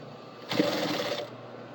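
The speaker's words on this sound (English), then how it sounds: "sewing these two panels together" A sewing machine briefly runs at a steady whirring clatter as it stitches two fabric panels together for top stitching an edge. The burst lasts under a second, with quiet before and after.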